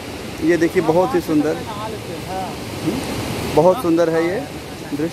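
Waterfall in a dense forest of the Chandraprabha sanctuary, its steady rushing wash running beneath a voice that speaks throughout.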